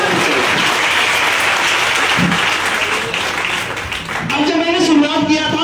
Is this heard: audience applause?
yes